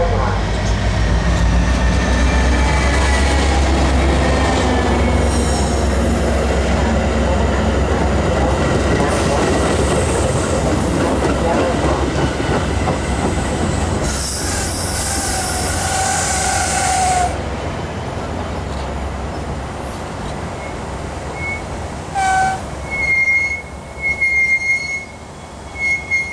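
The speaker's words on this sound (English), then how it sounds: "Milwaukee West Mainline train number 2709 to Elgin is now arriving." A Milwaukee West Mainline commuter train bound for Elgin pulls into a station, loud and close, with rumbling wheels and high, sustained squeals of braking wheels, fading toward the end as the train settles.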